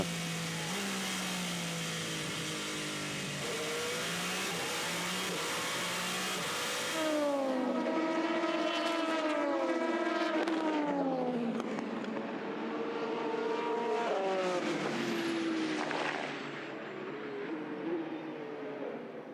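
Race cars at the 2019 24 Hours of Le Mans, including a fast Rebellion Racing prototype, scream past with rising and falling engine pitch and gear shifts, loud and close, one car after another with crowd and track noise beneath.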